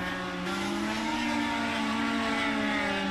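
IndyCar race cars roar in a racing video game at Chicagoland, one spinning out and losing its right rear, with a loud sustained engine whine and rising tire squeal layered over constant track noise, and no speech.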